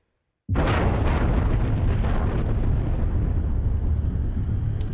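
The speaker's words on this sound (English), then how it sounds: "The explosion lit up the night sky over Prince George, a blast seen and heard for miles" A mill explosion at night in Prince George erupts suddenly after a moment of silence, then a loud, sustained roaring blast rumbles on without fading.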